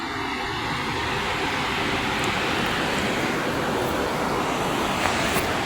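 A river rushes below a village waterfall hike, a broad, steady roar of flowing water heard up close without pause.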